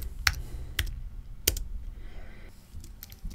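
Typing on a keyboard hooked up to an iPhone: a few separate, sharp keystroke clicks spread out with pauses between them, close and fairly quiet over a low background hum.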